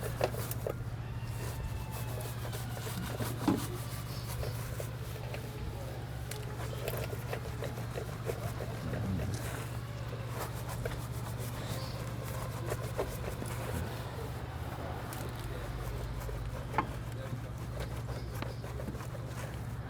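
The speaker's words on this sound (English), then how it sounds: "just using the wheel brush to clean the barrel" A wheel brush scrubs gently inside the barrels of ceramic-coated car wheels, making soft, irregular rubbing and patter strokes over a steady low hum, with occasional light clicks and no talking.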